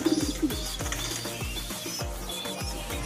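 A paired couple of pigeons coo close by, repeated low rolling coos in a steady rhythm, with a brief flutter of wings near the start.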